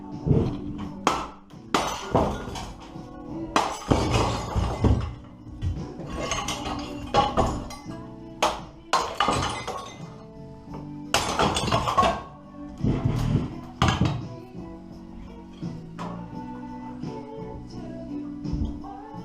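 Bathroom sink being smashed apart with blows during removal in an old French house renovation, a series of loud irregular cracks, bangs and clinking debris with short pauses between strikes, close and forceful.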